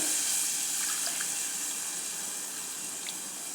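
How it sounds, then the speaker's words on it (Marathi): Water is poured from a cup into a pot in a soft, continuous trickling hiss, close and fairly quiet. "आता मी याने एक दोन कप पाणी याच्यात घालणार आहे"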